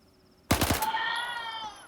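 A quick burst of three close, loud gunshots from an APBS pistol in S.T.A.L.K.E.R., fired in rapid succession, then a ringing tail fading over about a second.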